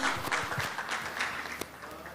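An audience at a post-budget business breakfast claps for a speaker, a patchy scattering of hands heard from a distance under an echoing room murmur.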